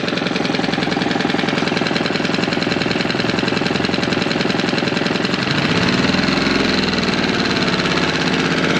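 A Tohatsu 6 hp outboard motor idles steadily in neutral, a close, continuous buzzing rumble with an even running beat and no voices, shifting slightly in tone near the end.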